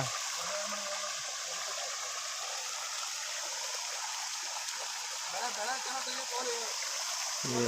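Water gushes steadily from a tanker onto a paddy crop nearing harvest in a village field, a continuous rushing flow that stays fairly constant and fills the whole stretch, with faint talk now and then beneath it.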